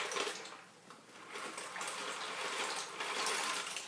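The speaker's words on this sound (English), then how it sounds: "We're gonna pour this yummy pasta into the boiling water." Pasta is poured into a pot of boiling water, rushing and splashing in a steady gush, fairly quiet and with no talking.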